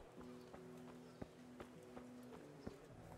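Horse hooves clip-clopping in the medieval game Kingdom Come: Deliverance, a slow walking rhythm of about half a dozen distinct, fairly quiet hoofbeats.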